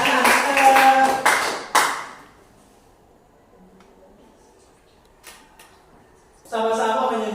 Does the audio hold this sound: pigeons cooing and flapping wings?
no